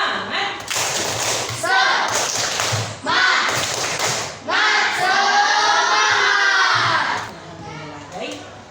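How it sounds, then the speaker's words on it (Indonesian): Young pupils in an Islamic education class perform a rhythmic group clapping chant, loud unison claps and thumps alternating with shouted chanting in bursts, ending in a long cheer of children's voices. "Tepuk semangat."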